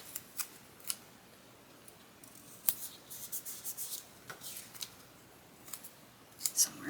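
Washi sticker paper being torn by hand during a crafting session: quiet, scattered crisp rips and papery snips in short bursts, with light rustling between them and no talking.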